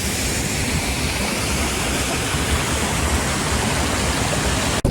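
A Carpathian mountain waterfall in winter roars with a steady, loud rush of falling water. It is heard close and unbroken throughout, with no voices.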